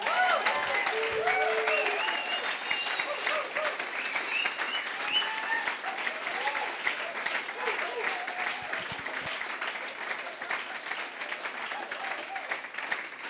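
An audience applauds in thanks for people who volunteered all day in the weather, a steady sustained clapping that fills the space, with voices murmuring faintly underneath.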